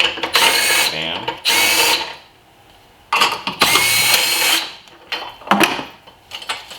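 An impact gun loosens nuts during engine removal on a Nissan Altima, letting out loud, close bursts of rapid hammering, two long runs, a pause, then more bursts and shorter blips.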